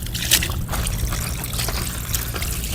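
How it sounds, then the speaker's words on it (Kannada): Water pouring and splashing over chicken pieces cut for kebabs as they are washed, a continuous close trickle with sloshing bursts and no speech. "ನೀರು ಹಾಕಿ ಸ್ವಚ್ಛ ಹೋಗ್ಬೋಣ ಫುಲ್ ಕ್ಲೀನಾಗಿ"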